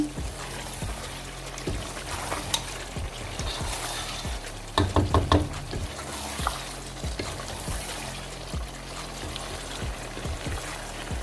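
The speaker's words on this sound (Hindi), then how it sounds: "अब हम इसमें वो यखनी ऐड कर देंगे।" Yakhni stock is poured into aloo gosht that has been browning in oil, and it bubbles and sizzles steadily with a cluster of louder splashy crackles in the middle and scattered spoon clatter throughout.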